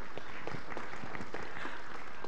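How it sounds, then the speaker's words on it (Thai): An audience at a real estate market talk applauds, a steady patter of many hands clapping at moderate loudness that continues for the whole brief stretch. "ขอเสียงปรบมือกับคุณสมิตาด้วยครับ"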